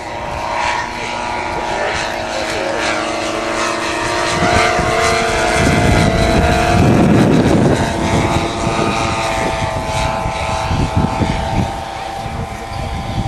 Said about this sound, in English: Now this model is 1/5 full size, and that gives the aircraft a wingspan of just over 13 feet.